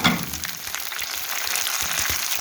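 Chicken fries in a pan for a restaurant-style karahi, giving a soft, steady sizzle throughout with faint crackles and no talking.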